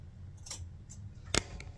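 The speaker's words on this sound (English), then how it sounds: "I don't know if I'm using scissors right" A few soft snips of scissors close by, with one sharper cut near the end, in a quiet room without speech.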